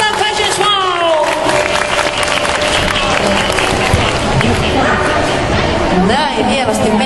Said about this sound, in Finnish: Kiitoksia vielä kerran ja vielä isot aplodit!